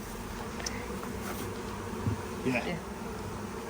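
Honey bees buzz steadily around a hive of European bees, a dense continuous drone close by, with brief talk from people nearby.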